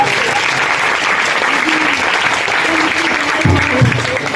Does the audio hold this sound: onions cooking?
no